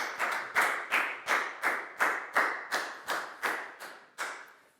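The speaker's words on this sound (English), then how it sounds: "and a big round of applause for Dan, please, guys." Classroom round of applause for a pupil during a Year 4 English lesson: about a dozen sharp, evenly spaced claps in a steady rhythm, close and clear with a slight room echo, no talking.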